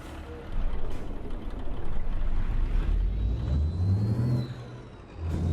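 Kenworth T2000 truck in American Truck Simulator, its engine droning and revving steadily at close range, rising in pitch near the end.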